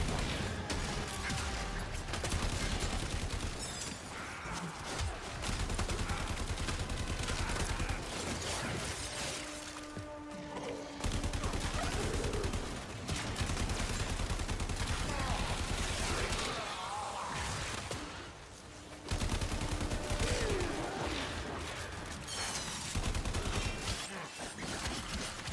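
Video game gunfire on a PC crackles in dense, sustained bursts with mechanical clatter, loud and near, dropping out briefly twice before resuming.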